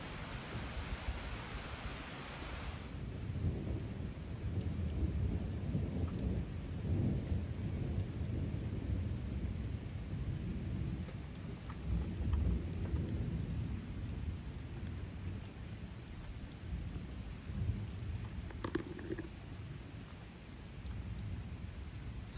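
A severe thunderstorm in southwest Virginia pours steady heavy rain with rolling thunder rumbling through, wind picking up; a continuous dense roar with no voices.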